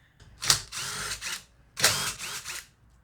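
A ratchet wrench loosening the air cleaner bolts on a Briggs and Stratton small engine with a plastic carburetor, heard as two close bursts of rapid ratcheting clicks separated by a short pause.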